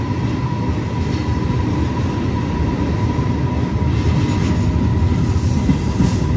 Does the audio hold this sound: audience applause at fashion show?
no